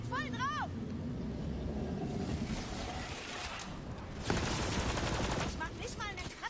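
Gunfire from the PS4 video game Borderlands 3, with rapid shots rattling under continuous game sound effects and someone talking over them, plus whooshing and electronic tones.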